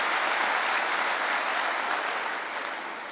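An audience at a spiritual talk bursts into steady, dense clapping that fills the room for a few seconds and then slowly tapers off.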